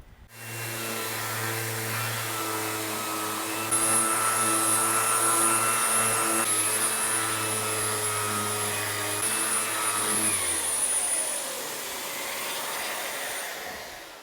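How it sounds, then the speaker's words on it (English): A random orbit sander with 220 grit paper works across a guitar top, producing a loud, steady motor whine with a high hum that holds for most of the clip before winding down near the end. "I've got some 220 grit on my random orbit sander."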